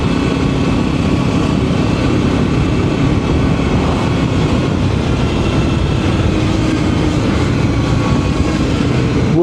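A Voge 300 Rally motorcycle riding on Spanish roads, heard as a steady, loud, dense engine and road roar with heavy wind rush, continuous throughout with no talking.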